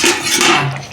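A lid lifted off a cooking pot of Bengali rui fish curry gives a brief metallic clink and clatter, close and fairly loud, with no talk.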